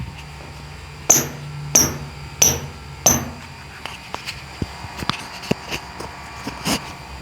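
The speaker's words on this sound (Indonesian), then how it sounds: "Oke, sepatu ini bunyi ya, King." A Nike Lunargato II IC futsal shoe in anthracite and white is knocked by hand, giving four sharp, evenly spaced clacks followed by softer, scattered taps and rustles, close up with no talk.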